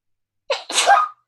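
A single sharp sneeze bursts out close by, a quick inhale followed by a loud explosive release, alone in silence.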